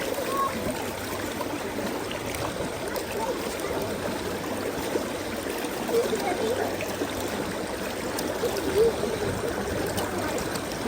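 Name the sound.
water rinsing leftover gold prospecting material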